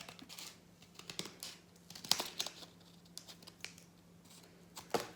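Scissors cut through thick folded paper in quiet, irregular snips and crinkly crunches, faint and close, with brief pauses between cuts.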